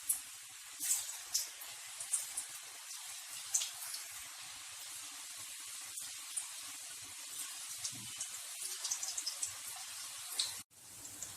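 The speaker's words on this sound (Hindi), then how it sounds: "पहले आलू को थोड़ी देर मीडियम फ्लेम पे फ्राई कर लें" Potatoes deep-frying in oil over a medium flame, a quiet steady hiss with scattered soft crackles and pops running throughout, ending in a brief knock.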